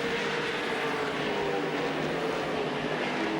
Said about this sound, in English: Great big V8 engines, and the roar from them is absolutely phenomenal